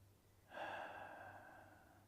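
A single slow, soft breath is drawn in and released during a guided relaxation exercise. It is quiet and close, and follows a brief silence with no talking.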